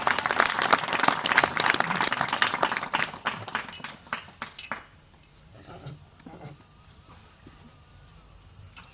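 A church congregation claps loudly and rapidly for about three seconds. The clapping thins into scattered claps, and a few faint clinks follow before it fades to quiet.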